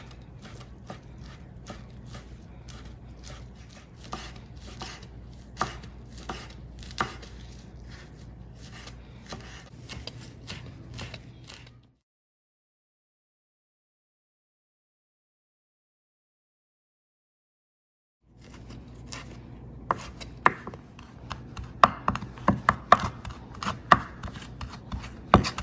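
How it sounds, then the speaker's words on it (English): Fresh basil chopped thinly with a knife on a board, a quick run of light crisp taps, then a stretch of silence before the tapping resumes faster and sharper. "So I'm just gonna chop up this basil, chop it up, you know, as thinly as I can"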